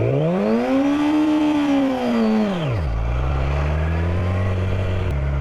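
A motorcycle engine climbs in pitch as the bike pulls away from a stop, then drops sharply as it shifts and settles into a lower, steady drone, loud and close.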